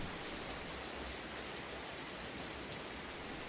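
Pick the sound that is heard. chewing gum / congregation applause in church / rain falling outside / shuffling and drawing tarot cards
rain falling outside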